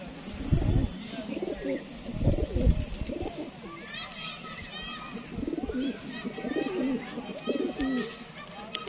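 Pigeons coo repeatedly on a rooftop in Gujranwala, soft throaty rolling calls in irregular bursts close by, with occasional chirps and people talking among them.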